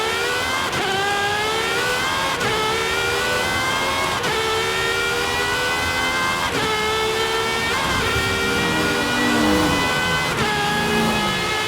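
A high-revving BMW M3 engine in Forza Horizon 5 roars continuously, rising in pitch through repeated gear shifts, loud and close with no voices.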